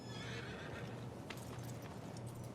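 A horse in the video game Red Dead Online whinnies amid faint clip-clop hoofbeats, heard softly over a steady game soundscape.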